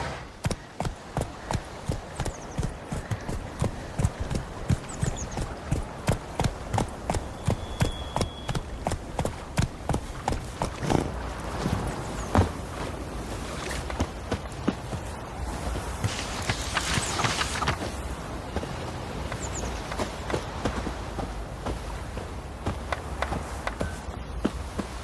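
Roach the horse galloping in The Witcher 3: Wild Hunt, a long run of regular, evenly spaced hoofbeats close up over a soft ambient background, with a brief rise of noise midway.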